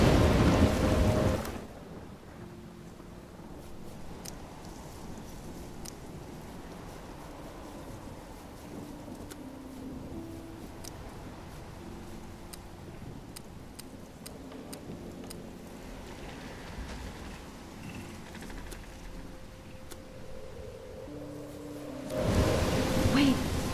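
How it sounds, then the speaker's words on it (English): Steady rain and storm rumble in the Life Is Strange video game, a continuous wash of rain noise with low rolling thunder, and louder swells at the start and end. "I'm trapped in a storm?"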